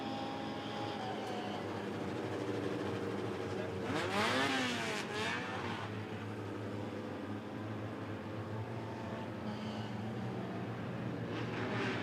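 Race cars in a Midwest Dash feature race at Rockford Speedway roar around the track during a restart. The steady engine drone is broken by a rising, revving sweep near the middle.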